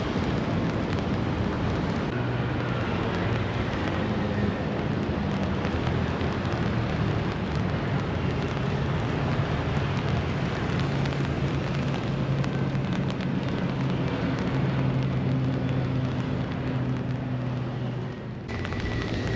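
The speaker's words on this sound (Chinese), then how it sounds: "現在雨下大了，我得撐傘了" Heavy rain falling on a riverside viewing platform by a bridge, a steady dense wash of drops with a low background rumble, continuing unbroken throughout.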